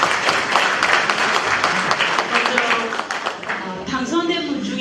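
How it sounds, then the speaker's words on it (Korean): An audience claps in a loud, dense round of applause, and a voice speaks over the tail end as the clapping thins out. "저한테 힘내라고 박수 한번 쳐주시기 바랍니다"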